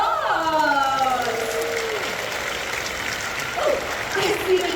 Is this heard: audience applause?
yes